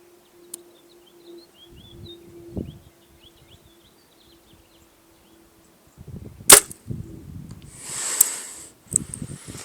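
A hinge-release bow shot at long range during bowhunting practice: a sharp release snap, then a clear loud smack of the arrow striking the target a beat later, with faint birdsong in the background.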